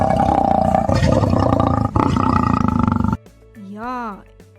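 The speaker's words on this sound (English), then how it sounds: "It is of a lion. The lion roaring in the jungle." A lion roars in the jungle, a loud, dense, rumbling roar filling about three seconds up close, followed by a quieter wavering call, with no speech over it.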